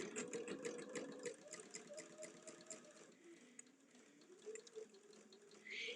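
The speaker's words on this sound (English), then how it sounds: "I am sewing through to the end of that blue fabric" A sewing machine stitches through blue fabric in a quick, rhythmic run of needle strokes, faint and close, slowing and pausing toward the end.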